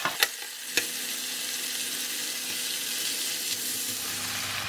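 Tomato and noodles hit a hot wok with prawns for a Tom Yum kuey teow stir-fry, a couple of sharp clanks followed by a steady close sizzle and hiss.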